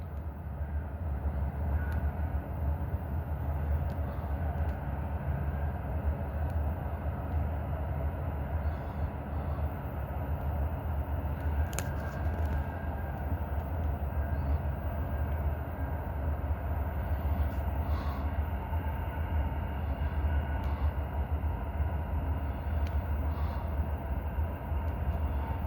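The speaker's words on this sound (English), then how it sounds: "Here's our train." A train rolls down the main line on a snowy day, a steady low rumble of wheels and cars that holds for the whole stretch, with a short sharp clank partway through.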